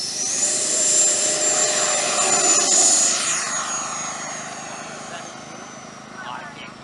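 An E-flite Viper 90 mm electric ducted fan model jet takes off from grass, its high whining fan rising to a loud rushing roar, then steadily fading as it climbs away, with a voice talking over it.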